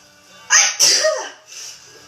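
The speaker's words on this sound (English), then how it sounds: "I'm not gonna stop sneezing now." A person sneezing twice in quick succession, loud and close, the second sneeze trailing into a breathy exhale with a softer sound after.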